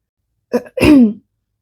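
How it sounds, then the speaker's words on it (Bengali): A single short throat clearing, close and fairly loud, a quick rough burst followed by a longer gravelly rasp. "সভয়ে গলা পরিষ্কার করে বললে"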